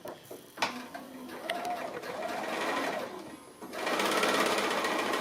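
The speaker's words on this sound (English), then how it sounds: "I'm going to go to the sewing machine, and I'm going to start sewing." A sewing machine runs in short bursts, then starts a steady, fast mechanical whirr of stitching, with faint cooing birds in the background.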